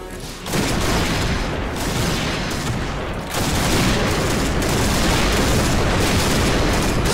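Dense, continuous gunfire in the video game Point Blank, with rapid overlapping shots and booms forming a loud, sustained barrage that briefly dips before resuming.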